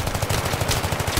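Rapid automatic gunfire in Battlefield on the Seine Crossing map, a loud, continuous rattle of evenly spaced shots filling the whole moment without pause.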